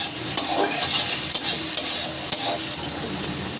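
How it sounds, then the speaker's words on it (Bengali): Curry leaves and softened tomato stirred in a hot pan for a chutney, with a steady frying sizzle and repeated sharp scrapes and clinks of the spoon against the pan roughly every half second. "কারি পাতাটা দিয়েও একটু নাড়াচাড়া করে নেব।"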